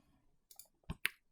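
A few sharp, faint computer mouse clicks come in a quick sequence during AutoCAD Architecture drafting, isolated and close with near silence around them.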